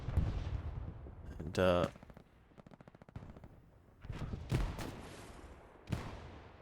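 Explosions from a bombing run in Hell Let Loose boom at intervals, interleaved with bursts of rapid gunfire, while a commentator talks over the battlefield.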